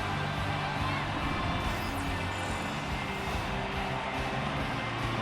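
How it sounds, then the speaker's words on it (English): Hockey arena crowd in the NHL 24 video game, a steady dense roar of cheering and murmuring that fills the whole clip at a constant level with no clear peaks. "You can feel the energy in this crowd."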